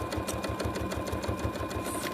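Domestic sewing machine stitching fabric for collage piecing with the presser foot removed, a rapid, even mechanical stitching pulse running close and steady, with no talking.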